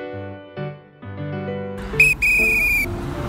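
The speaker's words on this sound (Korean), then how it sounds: "그때는 이제 호루라기 잡고 제지해야 돼요" A traffic safety guard's shrill whistle blast cuts in after some muffled voices and background noise, held for nearly a second, loud and close.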